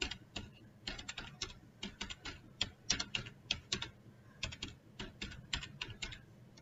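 Typing on a computer keyboard while writing a simple text file in Linux, quiet, close clicks in irregular quick bursts with short pauses, no voices.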